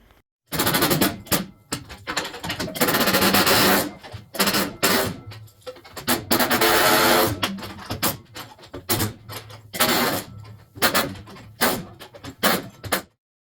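Cutting out the lower core support on a car being fitted for a billet aluminum core support and radiator, loud harsh bursts of powered cutting near the mic, stopping and restarting several times with short quiet gaps.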